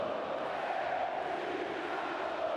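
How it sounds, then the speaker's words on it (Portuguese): Flamengo supporters sing and cheer in the stadium after a 2-0 Copa do Brasil 2023 win over Fluminense, a steady, dense crowd roar with no breaks, heard from a distance. "Canta alto, canta a torcida do Flamengo."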